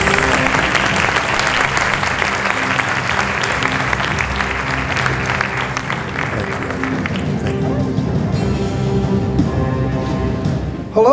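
At an HR conference, the SOAHR 2018 SHRM-Atlanta event, the audience gives a warm, continuous round of applause as a speaker is introduced. The clapping stays dense and steady, then thins out toward the end.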